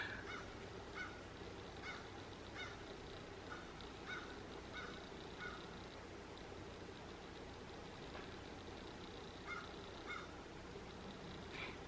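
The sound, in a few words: crow calling loudly outside an open window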